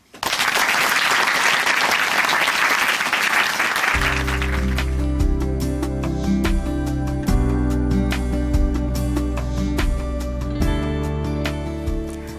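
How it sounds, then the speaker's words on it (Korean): A church audience in Chuncheon applauds to welcome a speaker, a loud, dense wash of clapping for a few seconds before music swells up and carries on alone. "박수로 모십니다."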